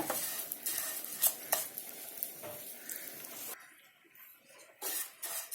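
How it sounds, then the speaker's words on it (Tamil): Vermicelli stirred and lightly roasted in a pan, with scraping spoon strokes against metal and soft sizzling, sharp clinks at intervals, then a short quieter stretch before stirring resumes. "அதில் இந்த சேமியாவை போட்டு நம்ம வறுத்துக்கலாம்."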